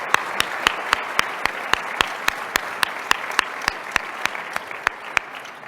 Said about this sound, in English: can we give another round of applause for our panelists for being here today?